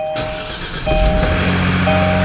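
Kia car engine cranks and starts, then settles into a steady, loud idle close by, with a faint tonal chime running underneath.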